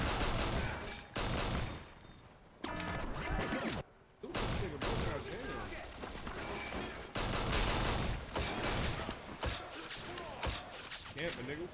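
Gunfire from the video game 50 Cent: Blood on the Sand, with repeated loud bursts and volleys of shots filling most of the clip, broken by a brief lull, while voices talk over the action.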